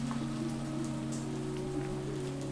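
Rain falling steadily on surfaces, a soft, constant patter under a low, sustained background hum, with no talking.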